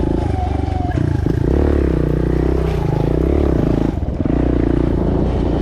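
A Suzuki DR 200 big bore motorcycle rides in second gear, its loud, steady engine drone close to the rider with shifting pitch and a brief dip near the end.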